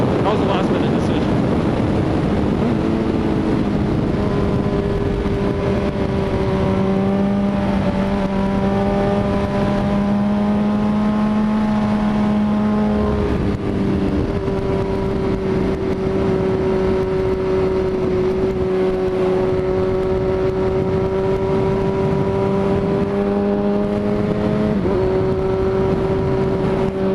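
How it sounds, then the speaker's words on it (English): A motorcycle engine runs steadily at close range, its tone rising and falling with a few revs over a constant drone, with wind rumble throughout. "So now my bike is running great."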